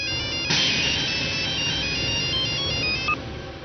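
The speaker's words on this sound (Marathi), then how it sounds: "अगं उचल की फोन" A mobile phone ringtone plays in a scene from a Marathi TV serial. The melodic electronic tones ring loud and steady for several seconds with no talk over them, then cut off just before the end.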